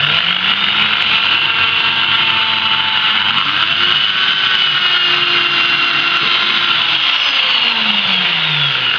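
Steady high-pitched motor whine of an electric drill mounted in a vertical drill stand, running continuously, loud and close, its pitch shifting slightly as it bores.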